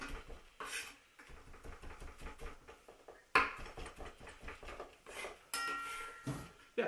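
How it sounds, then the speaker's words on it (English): Kitchen knife roughly chopping parsley on a board, a rapid run of close, dull knocks with scraping, broken by brief pauses, with some clatter of cookware. "chop up some of this parsley. And again, we're just going to roughly chop it up, nothing fancy."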